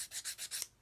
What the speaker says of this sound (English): with a sanding stick, instead of having it flat, I'm just going to cant it over to an angle